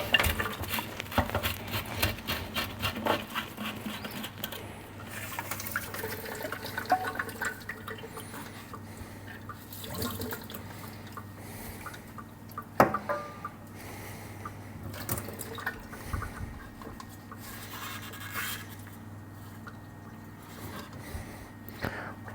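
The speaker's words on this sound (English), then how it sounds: "Run some water through there" Water runs through a Baxi boiler in a low, continuous trickle and rush, with scattered metallic clinks and knocks over the flow and one sharper tap partway through.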